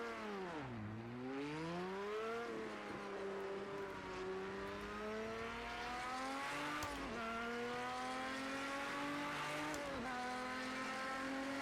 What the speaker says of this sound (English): Oh, an Italian V12.